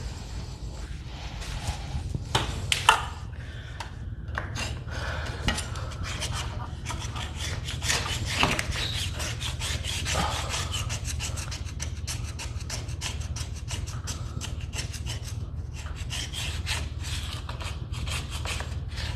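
A scraper rasps along the side of a wooden staircase, stripping off old stain in a steady run of scratchy strokes over a low background hum, close and moderately loud.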